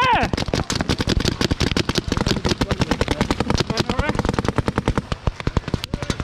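Rapid machine gun fire from the Living Legends tank battle video game rattles in a dense, loud, nearly continuous burst throughout, with a voice talking over it.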